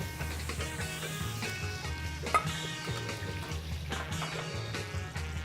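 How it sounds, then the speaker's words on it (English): Sofrito of red onion, carrot, celery, garlic and thyme sizzles steadily in a pan with browned meat, a continuous close frying hiss with a brief clatter midway. "And then we're going to dump the sofrito in."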